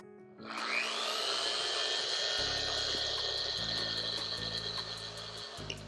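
A car polisher set to speed 6 whines up and spins a polish pad, a close, continuous high-pitched motor tone that holds steady with slight pitch shifts.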